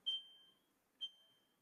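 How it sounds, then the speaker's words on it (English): Two high, piercing electronic smoke alarm beeps from a neighboring home sound about a second apart, each starting sharply and ringing briefly, somewhat distant in a quiet room. "my neighbor's smoke alarm went off"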